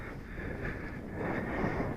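Light wind in misty weather on a Dartmoor moorland walk, a soft steady rumble and hiss close to the microphone, rising slightly toward the end, with no voices.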